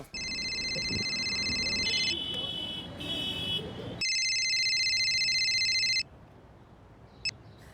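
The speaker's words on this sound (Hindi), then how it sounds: "जरा फोन लगाओ" An electronic phone ringtone chirps in two long bursts, with a short pause between them, over faint background noise.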